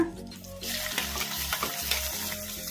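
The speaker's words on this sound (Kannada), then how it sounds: "ಇವನ್ನೆಲ್ಲ ಮೀಡಿಯಂ ಫ್ಲೇಮಲ್ಲೇ ಫ್ರೈ ಮಾಡ್ಕೋಬೇಕು" Green chillies and spices fry in a pan over medium flame, a steady close sizzle with stirring scrapes running throughout once they hit the oil.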